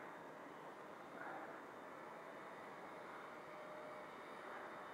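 A small brushed XK K100 RC helicopter flies at full pitch, giving a steady, fairly faint high-pitched whine with a constant broadband rotor hiss throughout, no talk.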